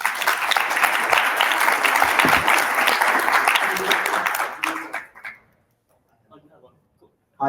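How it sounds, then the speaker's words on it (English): Loud, dense audience applause at a business conference talk, sustained for about four seconds before thinning out and stopping, with a brief voice at the very end. "Big round of applause."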